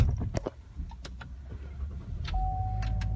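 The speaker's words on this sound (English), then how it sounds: "hold on, I'm getting in my car" Someone climbs into a car: a few sharp clunks and rustles, a jangle of keys, then a steady low hum as the vehicle powers on, with a faint tone. Close and fairly loud, with no talking.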